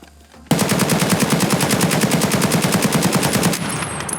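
Rapid automatic fire from an AK-103 rifle in Escape From Tarkov, one sustained burst of evenly spaced loud shots lasting about three seconds, heard alone with no talk.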